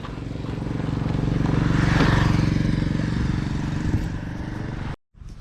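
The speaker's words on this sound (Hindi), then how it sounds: "सो मैं बाइक को लगा देता हूँ साइड में" A TVS Apache RR310 motorcycle engine drones steadily, close by, swelling slightly and then easing off as the bike slows to park, before a sudden brief cutoff near the end.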